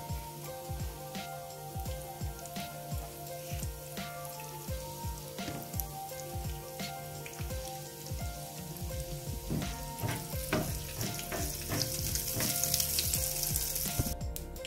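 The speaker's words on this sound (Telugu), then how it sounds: "నూనె వేడైంది, దీంట్లోకి మనం పోపు దినుసులు వేసేసుకుని" Mustard seeds, tempering spices and asafoetida fry in hot oil for an Andhra peanut dish, a dense continuous sizzle with scattered sharp pops and crackles, growing louder and hissier toward the end.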